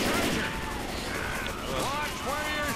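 Gunfire crackles throughout a hectic Left 4 Dead 2 co-op finale, rapid shots layered with chaotic combat effects under players shouting to each other.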